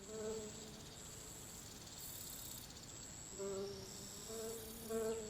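Bees buzz steadily around a bee hut in an Unreal Engine 5 ambient soundscape, a soft continuous drone with swells of louder buzzing passing close, no talk.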